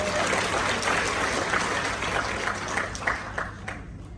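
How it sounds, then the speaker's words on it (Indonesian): Applause from an audience at a company introduction event for Atomy in Jakarta, steady dense clapping at moderate level throughout, with faint voices mixed in. "Tepuk tangan untuk Atomi."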